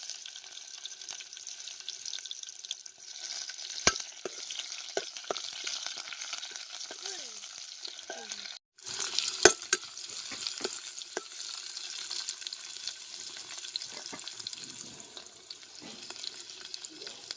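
Onion sizzles in hot mustard oil for a tomato dish, a steady close frying hiss with occasional stirring clinks and scrapes, briefly interrupted midway before the sizzle resumes.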